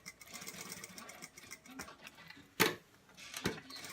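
A sewing machine stitches the back seam of an A-line dress in short bursts of rapid, close mechanical ticking, with a couple of louder clunks as it runs.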